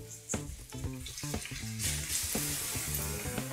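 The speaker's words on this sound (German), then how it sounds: "Sobald das Öl heiß ist, meine Zwiebeln hinzu, die ich in Streifen geschnitten habe, und brate die ganz scharf an." Onion strips frying hard in hot olive oil, a constant hiss under louder rhythmic music.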